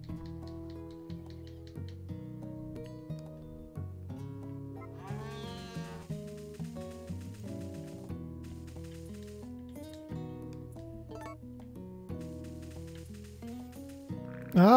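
A cow moos in the farming video game Harvest Moon: A Wonderful Life, low and fairly faint, over continuous light melodic game music.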